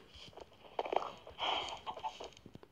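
Chickens cluck in short, scattered bursts at moderate distance while being fed, with a couple of louder calls standing out against a quiet background.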